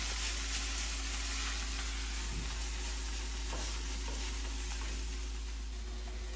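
Ingredients for crispy potato tacos sautéing in a pan, giving a steady, close sizzle and crackle that runs the whole time with faint stirring scrapes.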